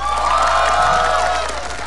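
Concert audience at a band's final show cheering and applauding a singer, a dense loud wash of crowd noise with shouts and whoops held steady for about two seconds.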